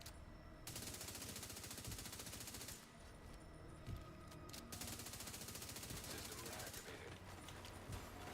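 Rapid bursts of automatic gunfire from The Division 2 video game, a solo firefight against suppressors, rattle nearly continuously at steady loudness with a few heavier shots, under game noise and occasional talk.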